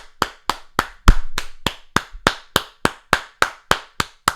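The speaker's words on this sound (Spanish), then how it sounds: "Un aplauso" Sharp claps in a steady unison rhythm, about three per second, ring out in a lecture hall during a talk on Catholic tradition and Scripture, with no voices over them.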